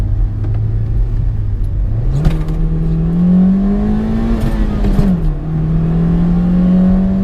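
A 2002 Honda Civic EX coupe accelerates hard from inside the cabin, its engine droning and rising in pitch through the revs, dipping at a gear change around the middle, then climbing again, loud and continuous.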